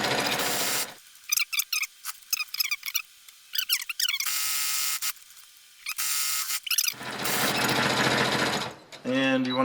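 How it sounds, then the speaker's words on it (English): Sewing machine stitching fabric for a pocket mask: loud bursts of steady whirring stitching alternate with short stops where a voice talks over quiet handling, and a long final run ends in a brief clatter. "Back stitch, presser foot up, 90-degree turn, continue on, making sure everything's really aligned."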